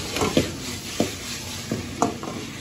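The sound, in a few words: stir-frying lemon chicken with julienned gondhoraj lemon peel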